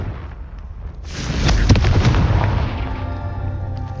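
A Confringo fire spell bursts in the video game Hogwarts Legacy: one loud, close explosion swells in after a brief low rumble, then fades into a crackling, rumbling tail.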